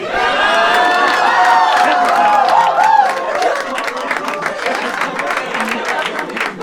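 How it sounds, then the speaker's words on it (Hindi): An audience at a comedy debate show bursts into loud, sustained applause mixed with cheering and whoops, the crowd noise dense and close, slowly easing off toward the end. "जोरदार तालियां भाई के लिए यार।"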